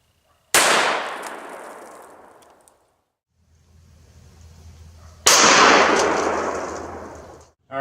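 Two loud, close .45 caliber gunshots fired at a steel toe boot crack out several seconds apart, each trailing off in a long ringing decay.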